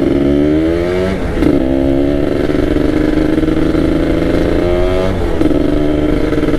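A Kawasaki Ninja RR two-stroke motorcycle with an open air filter, engine close and loud, rumbling at idle with two short rev blips that rise and fall, running steadily throughout with no talking.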